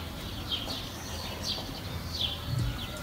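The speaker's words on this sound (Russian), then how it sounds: "Птицы поют." Birds chirp in short repeated calls at a distance on a quiet, empty street on a quarantine evening in Israel, with faint low background hum.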